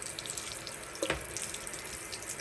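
Water sprays steadily from a pull-out kitchen faucet sprayer in a Japanese rental apartment, a continuous loud hiss with a brief clunk and splash midway as the sprayer is moved.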